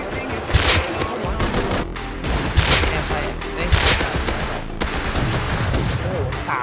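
Dense gunfire in the video game Rust, rapid overlapping shots and loud bursts running almost throughout, close and harsh.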